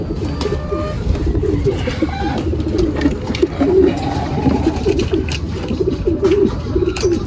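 Racing pigeons coo repeatedly in a loft, soft throaty rolling calls overlapping in a continuous stream over a low background rumble, close and fairly loud.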